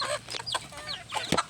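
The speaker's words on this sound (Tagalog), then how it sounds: "Ito po yung mga manok namin." Several chickens cluck and chatter nearby in quick, overlapping bursts.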